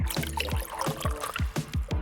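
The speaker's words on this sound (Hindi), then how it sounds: "अब इसमें 1 कप पानी डालेंगे" A cup of water poured into a honey mixture gives a series of gurgling, downward-sliding plops that repeat quickly and steadily across the whole moment, close up, with no voices.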